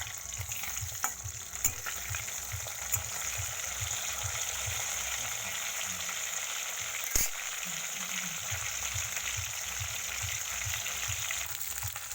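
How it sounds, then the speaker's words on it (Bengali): Tilapia fish, already flipped, frying in hot oil with a steady close sizzle, a rhythmic low pulsing bubble underneath and occasional clicks from a utensil, no voices. "দেখো মাছ ভাজা হয়ে গেছে তুলে নিচ্ছি"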